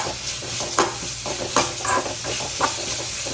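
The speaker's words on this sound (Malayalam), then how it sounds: "ഇതിൽ ഞാനിപ്പോൾ ഒരു സബോളയും ഒരു തക്കാളിയും പിന്നെ കുറച്ച് വെളുത്തുള്ളി ഇല്ലേ" Onion, tomato and a few garlic cloves sizzle in a hot pan while a spatula stirs them, scraping in periodic strokes about once a second over a continuous close frying hiss.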